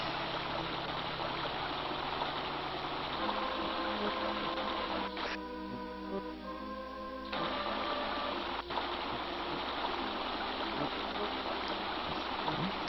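River ambience in the video game Return to Zork, a steady rushing, trickling flow of water that holds throughout, with a brief shift in texture midway.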